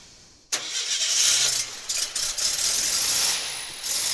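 After a brief quiet moment, an engine cranks and catches, then settles into a steady running rumble close by, with a few mechanical clicks.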